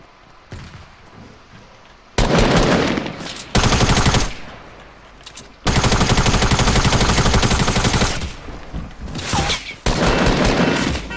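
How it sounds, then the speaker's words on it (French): Rapid automatic gunfire in a Fortnite match, aimed at the player, comes in several loud, dense bursts of near shots separated by brief quieter gaps. "On me tire dessus déjà."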